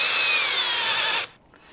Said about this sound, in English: drill a 1/4 inch hole through the center